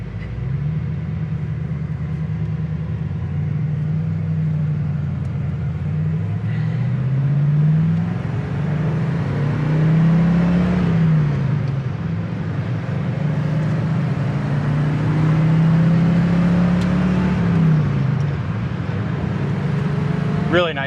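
A 1981 Camaro Z28 being driven, its engine droning steadily and rising and falling in pitch with throttle changes, loud and continuous with road noise throughout.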